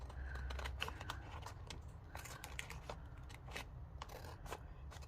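Paper being cut with scissors while making stamped collage tags at a crafting desk, a steady run of soft, close snipping and rustling strokes over low background hum.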